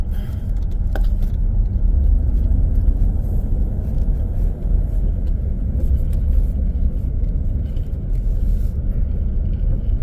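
A GM car held in V8 mode drives through a residential neighborhood, its engine a steady low rumble heard from inside the cabin with constant road noise and no speech.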